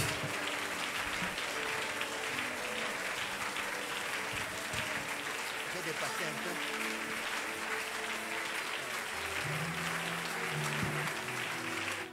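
A church congregation applauding continuously for a long stretch, dense steady clapping with voices and faint musical tones mixed in.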